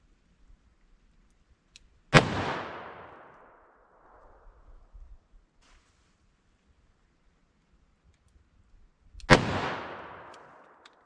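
Two sharp, loud .357 Magnum Hornady Critical Defense shots fired into wood, several seconds apart, each a cracking report trailing into a long outdoor echo, with quiet between them.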